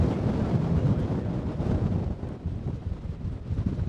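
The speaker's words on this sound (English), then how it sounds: "Wind's a little fast. Yeah. It's about 30 miles an hour, 25, 30." Strong wind of about 25 to 30 mph blows outdoors where quad-line kites are being flown, making a loud, continuous buffeting roar against the microphone with gusty swells throughout.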